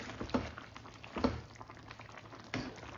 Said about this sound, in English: we're just going to check on the curry. Give it a stir.